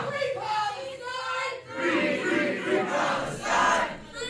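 A protest crowd inside a meeting chamber chants 'ceasefire now' in unison, with loud rhythmic shouted phrases repeating and crowd noise between them.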